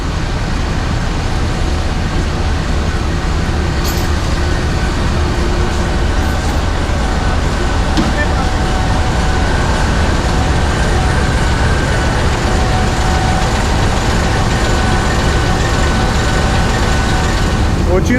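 A train locomotive hauling the Sir Syed Express passenger train runs with a loud, steady, continuous rumble and roar from up close, unbroken for the whole stretch, with a voice faintly present in the background.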